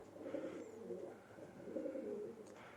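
Racing pigeons cooing in a pigeon loft, several soft, throaty coos overlapping in a steady murmur at close range with no talking.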